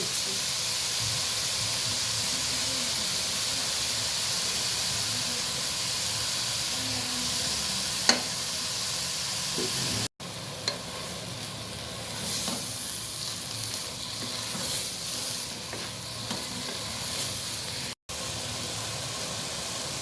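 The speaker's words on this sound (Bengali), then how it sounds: "গাজর হালকা ভেজে নিয়েছি এখন লিকুইড দুধ দিয়ে" Liquid milk is poured into a pan of lightly fried carrots for carrot halwa, and a steady, fairly loud sizzling hiss follows, continuous and close, broken only by two brief cuts, with no voices.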